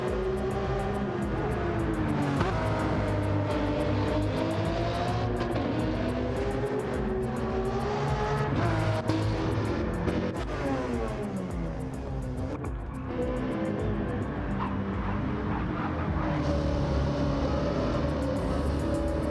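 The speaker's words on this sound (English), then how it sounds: "Just hearing the blowback on the exhaust." A race car engine in a racing video game roars continuously with shifting pitch, revving up and down as the exhaust crackles and pops with blowback, loud and close throughout, at Sardegna.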